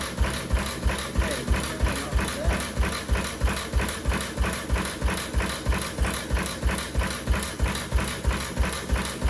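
A 6 hp outboard motor idles steadily after a fuel tank repair, its fast, even chugging pulses near and continuous throughout, with no talk.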